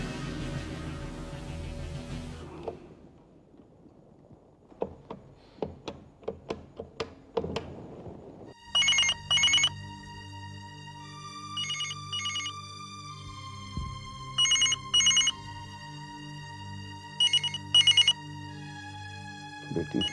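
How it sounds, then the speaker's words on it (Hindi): A telephone ringtone rings repeatedly in a Hindi crime drama scene, coming in a series of bright bursts over a steady electronic tone. It follows a quieter stretch of scattered percussive hits and carries on loud for about twelve seconds. "बेटी फोन उठाओ, तुम्हें बहुत जरूरी बात बतानी है।"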